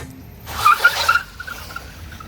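MG ZS EV electric SUV pulling away: a brief soft rush of noise gives way to a faint, steady electric whine that hums on quietly with no other sounds.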